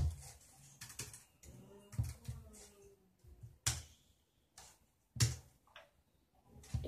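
Soft, close keystrokes tap on a laptop keyboard as a password is entered, coming in short irregular bursts with a few sharper clicks and quiet gaps between them.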